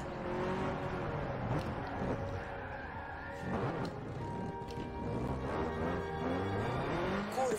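Tires hiss and slide over snow in Forza Horizon 4 as a racing car drifts through corners, a steady, close engine drone with skidding texture rising and falling throughout, no talk over it.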